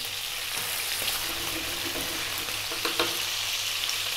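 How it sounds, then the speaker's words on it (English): Cumin seeds and cardamom sizzle in hot oil beside chicken in a pan, a steady, loud, close frying hiss with a few faint stirring clicks and no talking. "Let's now drop in those cumin seeds"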